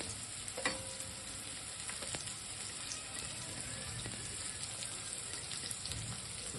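Onions frying in oil for a brinjal curry, a steady quiet sizzle with occasional stirring scrapes and a few sharp utensil taps against the pan.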